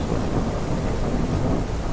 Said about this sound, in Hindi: बारिश वैसे तूफानी होती रहती है यहाँ पे,